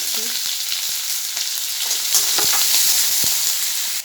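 Chopped onion tossed into hot oil in a pan, giving a loud, dense, continuous sizzle with a few clicks of a utensil, close by and without any voices.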